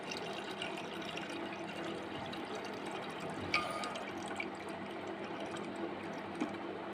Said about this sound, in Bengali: এর মধ্যে এখন আমি ঠান্ডা জল দিয়ে দেবো।